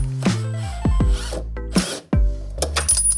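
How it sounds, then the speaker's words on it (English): A gear puller works a part off a cheap convertible car with close metallic scraping, ratcheting and creaking strains in several uneven bursts, loud and without talk. "We're gonna try out a gear puller."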